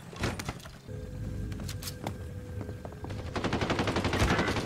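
Rapid SMG gunfire in a video game, several close, loud automatic bursts with clicks and mechanical handling sounds between them, ending in a long sustained volley.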